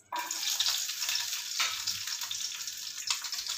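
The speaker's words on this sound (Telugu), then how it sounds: "సేమ్ పాన్లో దాల్చిన చెక్క, యాలక్కాయ, లవంగాయలు," Cinnamon, cardamom, cloves, ginger and garlic fry in a pan with a steady, close hiss of sizzling oil and no talk.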